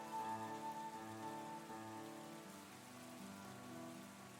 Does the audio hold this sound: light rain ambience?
yes